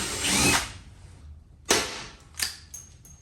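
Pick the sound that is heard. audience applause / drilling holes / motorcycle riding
drilling holes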